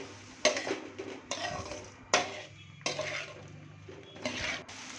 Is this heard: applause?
no